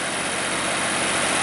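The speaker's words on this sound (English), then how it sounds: "This unit is powered again by a Perkins diesel engine, a pancake 6kW generator" A Perkins diesel engine on a 6kW generator powering an Allmand Night-Lite Pro light tower runs steadily at idle, a constant droning hum with no variation and no voices.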